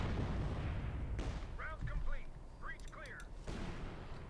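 Artillery bombardment in the Company of Heroes 2 strategy game rumbles as low, heavy booms at the start and end, with chirping in-game effects between them and a faint voice present throughout.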